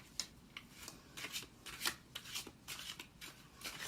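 Tarot cards being shuffled during a reading, a run of quick crisp riffling bursts that repeat steadily at close range, with no voices over them.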